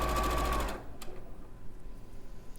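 Sewing machine chain piecing quilt fabric through the presser foot, a loud, fast steady whirr of stitching that stops abruptly, followed by quiet handling sounds.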